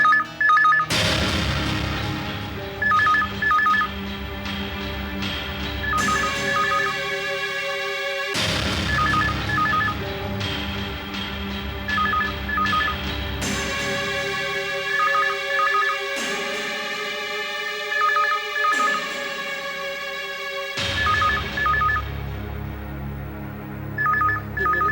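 An old-style telephone rings insistently in repeated bursts, loud and close, with brief pauses between rings over a low background tone.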